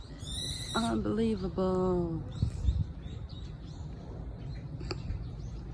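A bird calls in a park during spring cherry blossom season, a short series of clear call notes near the start, with voices and background noise continuing around it.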